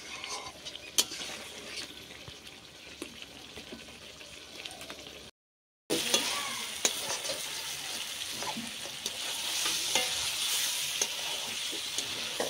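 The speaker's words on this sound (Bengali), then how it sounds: "মাংসর জল আমার প্রায় শুকিয়ে এসছে, আমি পুরোটা শুকিয়ে তারপরে কষিয়ে নেব।" Mutton in a pan, its liquid nearly cooked away, sizzles and is stirred, with steady frying hiss and scraping. It breaks off for a moment and then returns louder.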